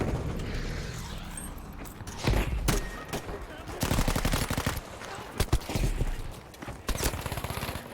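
MG42 machine gun fire in the video game Battlefield V: rapid bursts of automatic gunfire with dense, crackling shots, several sustained volleys mixed with other battlefield shots and mechanical clatter, loud and close.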